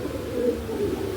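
A male pigeon sold as a club bird gives a soft, low, rolling coo at close range, brief and unbroken by talk.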